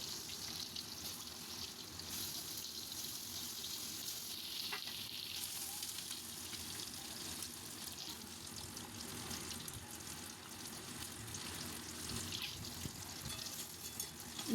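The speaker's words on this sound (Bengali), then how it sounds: "এবার একে একে ডিমগুলোকে লাল করে ভেজে তুলে নেব।" Boiled eggs rubbed with salt, turmeric and Kashmiri chilli powder fry in hot oil, a steady, close, even crackling sizzle that holds without pause and without any voices.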